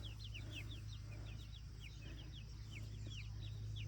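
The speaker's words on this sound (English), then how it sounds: "And then we have chicks." Rhode Island Red chicks, partly feathered, give a rapid stream of high, overlapping cheeps and peeps over a steady low background hum.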